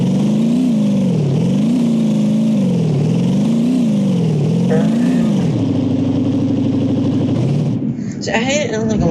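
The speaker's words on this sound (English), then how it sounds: "Do a burnout." A front-wheel-drive car in the BeamNG driving game does a burnout, its engine revving loudly in repeated rising and falling waves before settling into a steady high whine; a person talks over it.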